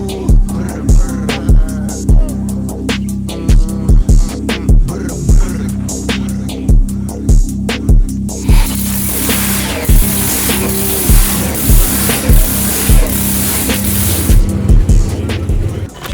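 A 1969 Yenko Pro Mod drag car's engine runs loud and close, with a choppy, pulsing lope that builds into a harsher, fuller roar about halfway through.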